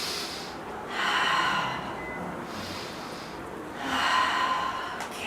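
Breathing during a hatha yoga flow, with three audible breath cycles. Each inhale and exhale is a close, airy rush with a short pause between.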